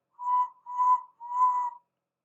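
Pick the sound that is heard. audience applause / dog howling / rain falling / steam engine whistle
steam engine whistle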